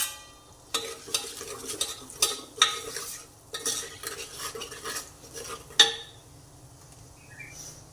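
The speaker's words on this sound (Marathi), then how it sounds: "सांबर मसाला टाकून घेत आहे मी" Repeated scraping and clinking of a spoon stirring sambar in a pot, in uneven bursts over a faint background hiss.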